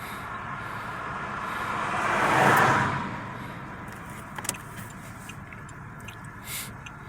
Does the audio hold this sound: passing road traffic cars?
yes